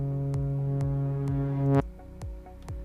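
A bright synth lead in FL Studio plays at full level from the start with no volume automation, held sustained notes over a steady beat of repeated kick-like hits.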